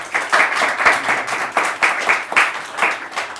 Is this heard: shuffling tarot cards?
no